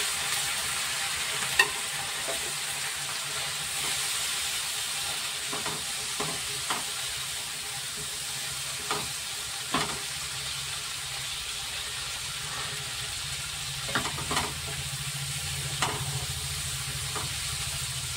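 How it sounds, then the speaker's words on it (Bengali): Turmeric, coriander and cumin powders sizzle steadily in a hot pan, with scattered scraping clicks from stirring over the constant frying hiss. "আমি এক চামচে, ছোট চামচের এক চামচে হলুদ গুঁড়ো, ধনের গুঁড়ো আর জিরের গুঁড়োটা দিয়ে দিলাম"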